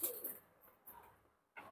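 Pigeons for sale in Bangladesh, including a pair of cream-eyed birds, give soft, faint cooing that swells briefly near the start and again at the end, with quiet room noise between.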